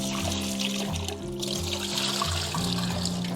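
Peeled prawns rinsed under running water, a steady close trickle and splash of tap water over the shrimp, continuous through the clip, with a low hum underneath.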